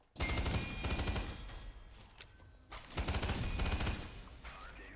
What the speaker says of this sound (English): It fires pretty quick, but it could fire quicker.